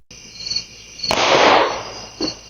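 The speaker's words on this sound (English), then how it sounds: "A single gunshot can be heard in this doorbell video facing an alley" A single sharp gunshot cracks outdoors in an alley, picked up by a doorbell camera, followed by a rushing echo that fades, set against a steady background of chirping insects.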